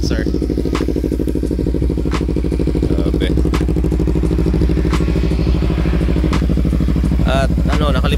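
A Kawasaki Ninja 300 fitted with an Austin Racing muffler runs close and loud with a steady, rapidly pulsing exhaust drone throughout. A few clicks and rattles sit on top, and a voice speaks over it.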